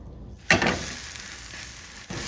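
A brown bread gourmet sandwich with melted cheese sizzles loudly in a frying pan, a sharp burst of frying as it is flipped onto the hot surface and then a steady crackling hiss.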